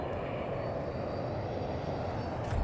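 Jet aircraft engine in a Battlefield video game: a steady, loud broadband roar of a fighter jet in flight, unchanging throughout, with a brief faint crack near the end.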